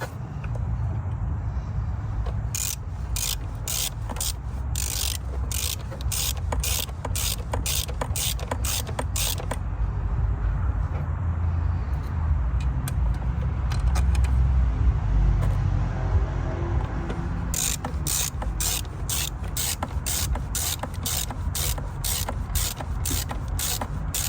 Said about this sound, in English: This one we'll go ahead and actually tighten all the way down